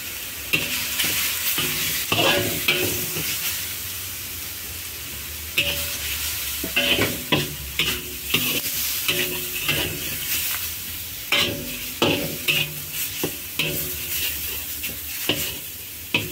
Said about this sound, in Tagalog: Igisa siya sandali.